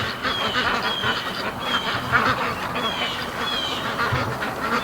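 Muscovy duck and other ducks calling in a swamp, with repeated soft honking and quacking calls rising over a steady, busy background of flock noise throughout.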